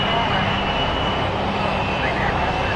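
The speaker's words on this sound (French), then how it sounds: "l'avion décolle au bout de seulement 365 mètres" A lightly loaded TACA Flight 110 airliner, carrying no passengers and little fuel, roars steadily and loudly at full engine power as it takes off after only a 365-metre run, with a voice speaking over the noise.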